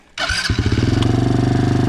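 A 2023 Can-Am Renegade 110 ATV's small engine cranks briefly and catches, then settles into a steady, loud, throbbing idle close by.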